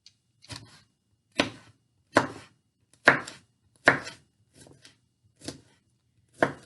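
A knife chops through a hot pepper on a cutting board with eight crisp, separate strikes, evenly spaced with short pauses between them, close and clear with no talking.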